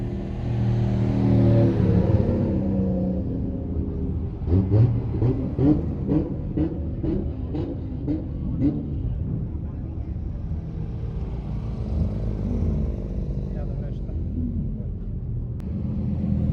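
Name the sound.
supercars driving by: McLaren, Lamborghini, Porsche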